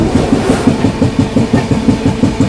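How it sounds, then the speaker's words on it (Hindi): Another train passing on the adjacent track on a foggy day, heard from aboard the Mahakoshal Express as a loud, steady clickety-clack of wheels over rail joints in a quick repeating rhythm, with no talk. "इधर कोई तो ट्रेन क्रॉस हो रही है"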